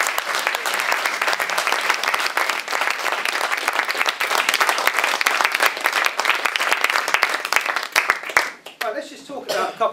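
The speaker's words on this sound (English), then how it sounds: "Give a round of applause." Sustained audience applause at a live demonstration event, dense steady clapping for about eight seconds before thinning out and fading near the end.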